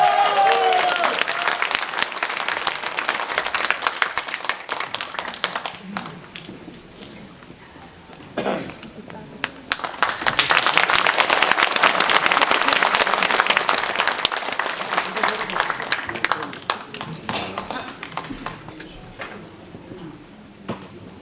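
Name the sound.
audience applause welcoming the next speaker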